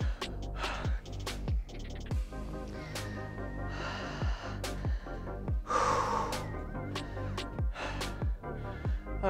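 Heavy, gasping breaths after an exercise set, repeated steadily and close, with airy inhales and exhales over a background of clicking, thumping noise.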